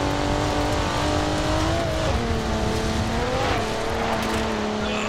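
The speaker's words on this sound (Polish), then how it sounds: "Jedziemy sobie autostradą. Zobaczymy ile Macan wyciągnie." Porsche Macan cruising a highway in Forza Horizon 4, a steady loud engine drone with a sustained whine shifting pitch through gear changes, tyre and road roar beneath, with no talk.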